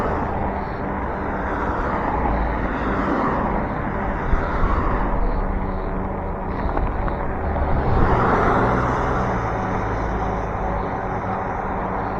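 Road traffic rushes past an e-bike riding in a bike lane, with vehicles swelling and fading in broad, loud whooshes over steady wind buffeting on the microphone.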